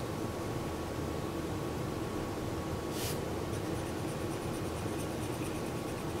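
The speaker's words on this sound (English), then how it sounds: "I'm gonna take my black crayon and I'm gonna go right here under this line and color this black." A black crayon colours across paper in a steady, faint scratching rub that keeps on throughout, with one brief brighter scrape partway through.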